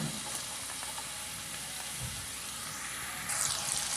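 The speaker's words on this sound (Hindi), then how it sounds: "2 मीडियम साइज के चॉप किए हुए प्याज ऑयल में ऐड करेंगे" Two medium chopped onions sizzle steadily in hot oil with cumin seeds, a close, continuous frying hiss with faint stirring clinks.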